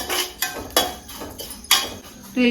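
Vermicelli for payasam frying in coconut oil in a pan, heard mostly as sharp metal utensil knocks and scrapes against the pan at an uneven rhythm, close and fairly loud.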